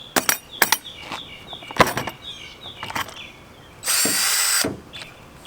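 A power drill whirs in short, close bursts with clicking in between, starting with a small bit, then runs in one longer, louder spin with a bigger bit before stopping.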